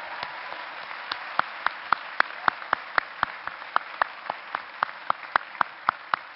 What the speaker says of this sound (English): how about a big round of applause for the incredible volunteers on